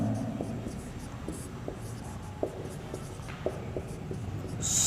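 Marker or chalk strokes on a board during a school geometry lecture on circles and central angles, a quiet run of short scratchy taps and strokes with no talking over them.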